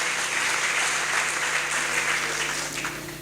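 Congregation in a church applauding together, a dense, steady wash of many hands clapping throughout that eases slightly toward the end, with no voices over it.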